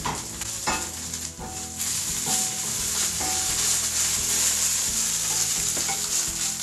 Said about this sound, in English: I don't know how much I'm supposed to fry this either